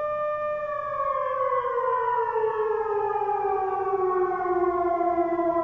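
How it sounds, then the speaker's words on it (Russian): A civil defense siren wails continuously in a false alarm, its steady, loud tone slowly falling in pitch throughout, with no voices. "Ложный сигнал тревоги на минувшей неделе напугал жителей Ахе."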